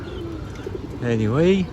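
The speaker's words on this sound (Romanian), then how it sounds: "Aici avem și o tonă de porumbei." Pigeons cooing nearby in an outdoor square, a low warbling coo that swells and bends near the end, with a person speaking a word over the start.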